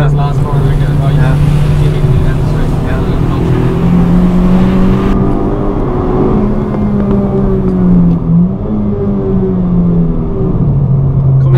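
A 2016 Honda Civic Type R FK2 on the Mondello Park race track gives a loud, steady engine drone with rising and falling pitch as it brakes and sets up for a corner, with a person talking over it throughout.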